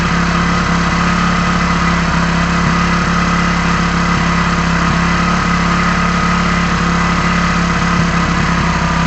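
A Hero HF Deluxe motorcycle engine idles loudly and steadily up close while its air screw is adjusted, a constant throbbing drone with no noticeable change in pace.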